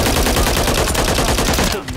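Rapid automatic gunfire from the Call of Duty video game, a dense loud stream of shots that runs almost continuously and cuts off just before the end.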